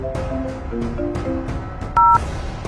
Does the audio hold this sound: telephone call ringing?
yes